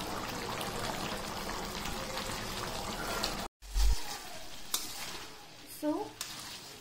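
Pallipalayam-style chicken masala sizzles and is stirred in an open pan, with a continuous close frying hiss, a brief pause, then scattered scraping stirs and spatters.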